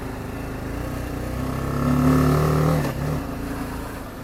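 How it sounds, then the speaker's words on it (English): A 2018 BMW G310GS single-cylinder motorcycle on a short commute, its engine note climbing steadily as it revs up, peaking and then dropping back, close and loud with no talk. "Let's take a little commute on the old 2018 BMW G310GS."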